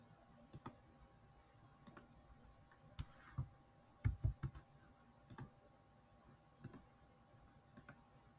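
Sharp computer mouse clicks, single and in quick pairs, spaced irregularly at close range in a quiet room while a crypto token import and swap are set up on Pulsechain.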